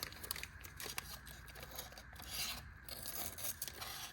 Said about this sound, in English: it'll cut a receipt.